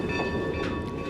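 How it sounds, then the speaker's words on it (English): Ballard Terminal Railroad short line freight train rolling past close by, a loud continuous rumble with a steady tonal hum and rattling rail noise throughout. "Western Pioneer relies on the Ballard Terminal Railroad to get its goods to market."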